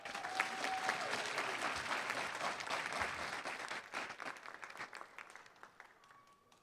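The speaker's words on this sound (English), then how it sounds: "let's celebrate them tonight with a round of applause" Applause from an audience at an elementary school awards ceremony honoring award recipients, a full burst of clapping that holds steady and then thins and fades toward the end.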